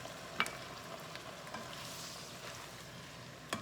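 A chickpea stew with tomatoes and vegetable stock cooks in a pot with a low, steady sizzle and faint bubbling, close and quiet, broken by a couple of small clinks.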